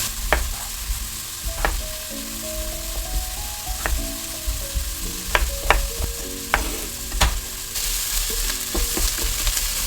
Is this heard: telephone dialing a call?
no